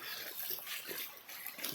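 Rainwater runs through a street drain in a flooded residential area, a steady broad rushing and trickling flow heard up close without speech.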